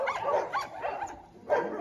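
Several dogs at a mountain dog shelter, including German shepherd mixes and wolfdogs, giving short barks and yips at moderate distance, about four quick bursts within two seconds.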